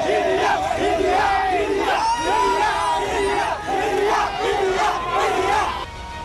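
A large crowd cheers and roars loudly in celebration as India wins the Women's World Cup, a sustained wall of voices with rising whoops and shouts throughout.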